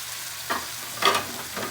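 Tilapia head and mackerel go into a pot with tomatoes, giving a few short bursts of stirring and sizzling against a low steady background, with no talking.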